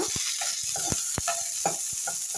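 Onions and dried red chillies frying with garlic in a pan, a steady sizzle with scattered stirring scrapes and clicks throughout, close and moderately loud.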